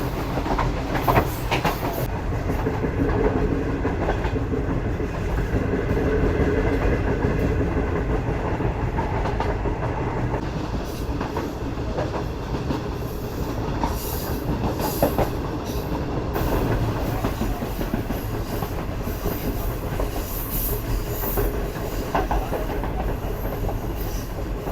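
Train running through the Thar Desert on the way to the India border, heard from on board: a steady loud rumble with rhythmic clickety-clack of wheels over rail joints and occasional metallic squeals, continuous throughout.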